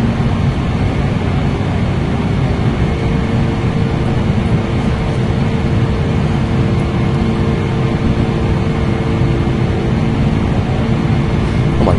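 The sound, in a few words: PMDG 747 aircraft climbing in video game FSX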